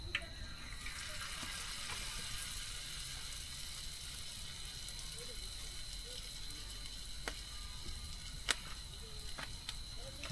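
Water trickles and splashes steadily for hand washing at a car campsite near Bhandardara, a continuous close wash with a few sharp clicks, while a voice talks faintly in the background.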